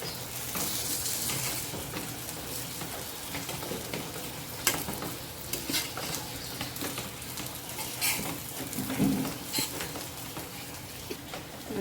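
Eggplant slices sizzle and crackle in hot oil in a pan, a steady close frying hiss with occasional scraping stirs and light clinks of a utensil against the pan.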